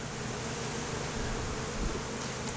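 Honeybees buzz in an opened hive during a beekeeping inspection on Hawaii's Big Island, making a dense, steady drone close by that lasts throughout without any talking.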